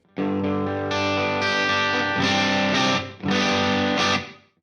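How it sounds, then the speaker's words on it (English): Electric guitar chords ring out through a clean amp on a Headrush pedalboard with the delay off, sustained and bright, with a few restrikes and a brief pause before fading out. "this is my core sound with the clean amp on"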